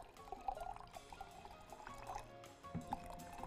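Very hot water being poured in a home kitchen during baking: a steady, quiet trickling pour with gurgles that briefly falters and resumes.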